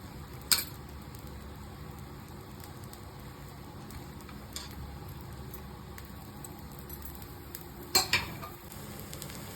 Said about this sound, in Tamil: காலை பிரேக்ஃபாஸ்ட் வந்து ஆனியன் ஊத்தாப்பம் தான் ஊற்றிட்டு இருக்கேன்.